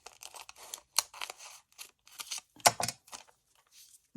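Scissors cutting paper for a junk journal specimen card, close, quiet crisp snips and rustling crinkles in irregular bursts with short pauses.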